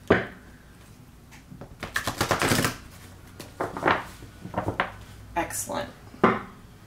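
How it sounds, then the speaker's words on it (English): Tarot cards being shuffled by hand, a run of crisp papery riffles and taps in irregular bursts, with a voice speaking intermittently between them. "I'm going to give the cards just a few more shuffles here."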